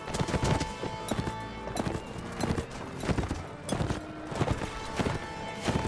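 Horses in the Mount & Blade: Warband video game, with steady overlapping clip-clop hoofbeats and clashing battle noise throughout, loud and busy with a few sharp impacts and no talk.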